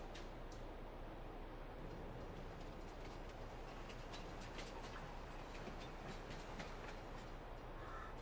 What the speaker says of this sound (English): Alright, so the train's here.